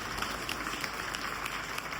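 An audience at a spiritual talk on the role of spirituality in society claps steadily, a dense, even patter of many hands held at moderate level for the whole stretch.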